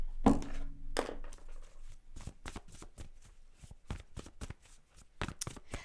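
Tarot cards riffle and slap in a string of sharp bursts, a couple of long shuffles followed by quicker crisp flicks and taps as cards are turned, close and loud with no talking.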